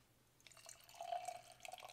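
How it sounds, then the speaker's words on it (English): Magnanimous Subliminal Haze Double IPA being poured, a soft liquid splash and trickle that builds steadily over a couple of seconds, faint and close with no talking. "Let's go ahead and get it poured here."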